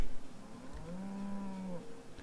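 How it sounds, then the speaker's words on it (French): A cow in the survival video game Project Zomboid gives a single low, drawn-out moo, clear and fairly close, over a faint steady background hum. "Vous voyez ma petite vache."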